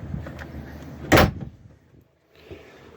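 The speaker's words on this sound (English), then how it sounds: "We'll close the door." An RV camper door swings shut with a single loud, sharp thud, followed by a short rattle and then near silence as a quieter hum returns.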